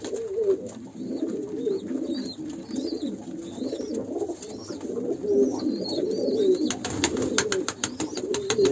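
Pigeons kept in a loft coo steadily, a soft repeated rolling murmur from several birds close by, with a few higher chirps and a burst of fluttering wings near the end.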